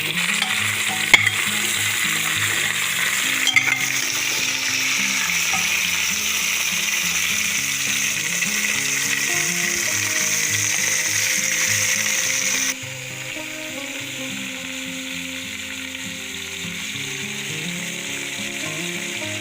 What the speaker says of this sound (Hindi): घी डालने के करीब 4 मिनट बाद हम जो हमारी गाजर है उन्हें भी हम इस कुकर के अंदर डाल देंगे और अच्छी तरह से हिलाएंगे।